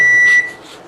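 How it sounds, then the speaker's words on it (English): A microwave oven heating broccoli gives one steady, fairly loud electronic beep of about half a second, followed by quiet kitchen room tone. "that's my broccoli in the microwave"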